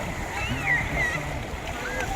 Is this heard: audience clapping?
no